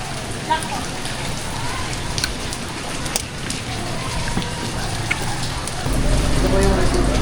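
Steady rain falls on a surface outdoors, a dense, even patter that grows slightly heavier near the end, with faint background voices under it.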